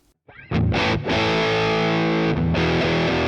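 Electric guitar through a Boss Katana amp with its Big Muff style fuzz booster engaged: a loud, thick, heavily distorted chord rings out after a brief lead-in, sustained with a short dip near the end.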